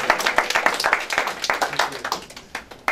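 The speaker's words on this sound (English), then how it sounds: "Let's give him a big round of applause." An audience claps at a custom back modification demonstration, a brief burst of dense, fairly close applause that thins and tapers off within a few seconds.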